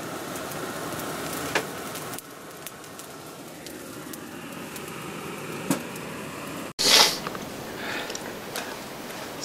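Partridge and elk backstraps frying in a pan at a hunting camp, a steady close sizzle and crackle with a few sharp pops and a louder burst near the end.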